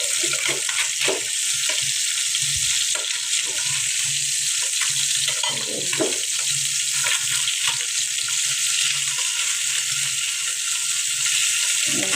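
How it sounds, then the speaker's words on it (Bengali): Fish pieces frying in oil in a home kitchen pan, a steady close sizzling hiss that runs throughout, with scattered clicks and scrapes as the pieces are handled, and no talk. "আমি আজকে ভেজে মাছ তরকারি করবো।"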